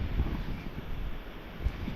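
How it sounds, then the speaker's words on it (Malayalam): Strong wind gusts during a heavy monsoon downpour, buffeting the microphone with low, uneven rumbling under a soft wash of rain, with no speech. "ഭയങ്കര മഴ, കാറ്റ്, നല്ല കാറ്റ്."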